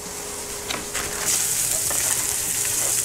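Meat fries and browns in a pan with a steady bright sizzle and scattered crackling pops, fairly close and continuous throughout.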